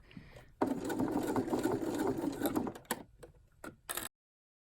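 A sewing machine stitches a knit binding onto a lacy slope tank top in one steady, close, buzzing run of about two and a half seconds, followed by a few short clicks and then silence.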